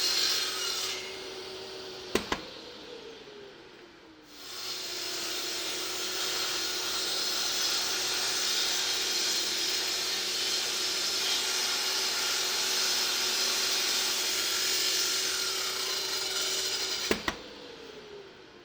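A track saw rough-cuts sheet wood pieces: a motor spins up with a click, then a long steady whining cut with a rasping edge for about twelve seconds before winding down, close and alone.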